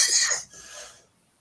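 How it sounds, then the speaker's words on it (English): A single harsh cough bursts out loudly at the start, followed by a fainter trailing breath that fades into quiet. "You're in fine company for coughing on air."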